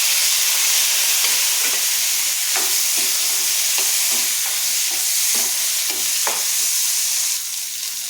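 Steady sizzling of chopped tomato sautéing in a hot pan, with scattered soft clatters from stirring throughout. No voices.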